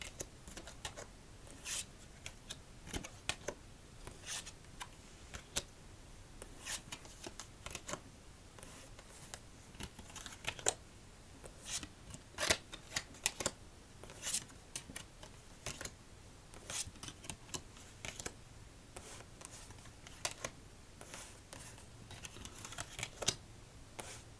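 Playing cards are shuffled repeatedly, crisp riffling bursts and snaps coming in quick, irregular runs, close and fairly quiet.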